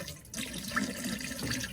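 RV antifreeze pours into a camper's sink and toilet drains while a Fun Finder travel trailer is winterized, a steady close liquid splash and gurgle running throughout with no talking.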